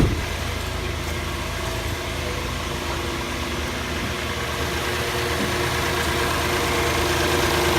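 A 2016 Hyundai Santa Fe six-cylinder engine idles steadily and fairly loud up close, a continuous even hum with a faint rattle through the whole stretch, no voices over it.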